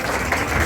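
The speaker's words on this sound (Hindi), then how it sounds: "सभी से रिक्वेस्ट है कि उनका जोरदार तालियों के साथ स्वागत किया जाए।" Crowd applause greets MP Manoj Tiwari as he arrives at a Koli community gathering, a steady dense wash of clapping that stays loud and unbroken for a brief moment.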